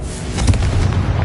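A Confringo fire spell blasts in the video game Hogwarts Legacy, a loud, dense explosive burst with a deep rumbling low end that sustains throughout without any talking.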